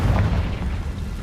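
A Confringo explosive spell bursts in Hogwarts Legacy, a short, heavy boom with a low rumble that fills the whole moment.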